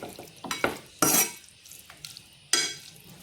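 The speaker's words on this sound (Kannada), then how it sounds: "ಎಲ್ಲವನ್ನು ಮಿಕ್ಸ್ ಮಾಡಬೇಕು." Spoon scraping and stirring a vegetable side dish with lemon juice in a metal pan, a few loud clanking strokes separated by quieter scraping, close by and without talk.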